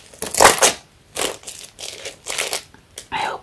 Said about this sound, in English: Let's try to open this guide with this weird scissors.